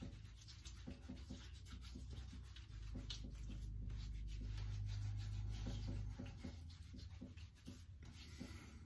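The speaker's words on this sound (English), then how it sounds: "Rub that between my hands. Start massaging it into my face." Hands rub pre-shave lotion into a face, a close, soft scratchy friction sound in repeated strokes over a low steady background, with no speech.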